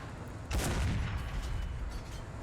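A single heavy cannon shot from an ASU-85 tank gun firing a HEAT round in War Thunder booms out, followed by a long rumbling decay. It is distant and muffled, and no one talks.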